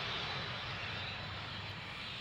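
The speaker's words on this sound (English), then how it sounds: "the mail plane is landing, an AN-26." An Antonov An-26 mail plane lands at a military airfield, a steady broad roar of aircraft engines that holds even and unbroken, moderately distant with no voices.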